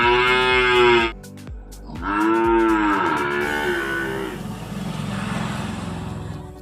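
A cow lets out two long, loud moos nearby, followed by the rumble of a passing vehicle, with no one speaking.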